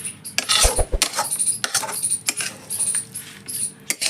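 A food mixture for a sweet dish is tipped into an oiled metal plate, with clattering metal scrapes, knocks and spoon taps, loud and close, in short irregular bursts.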